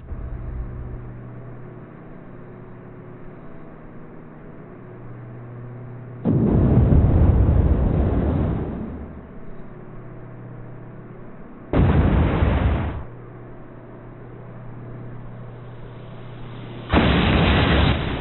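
Wartime flight sim IL-2 FSO strafing run over a 1942 town near Lyuban, where three loud, roaring bursts of gunfire and explosions break over a steady droning aircraft engine.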